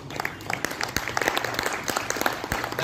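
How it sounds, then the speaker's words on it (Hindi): An audience at an Arya Samaj devotional singing program claps in a dense burst of fairly close, irregular hand claps that continues throughout. "ताली बजाओ जोरदार"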